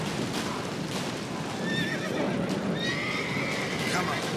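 A horse in The Witcher 3 game whinnies and neighs amid a dense bed of game sound with hoof clatter, while people talk over it.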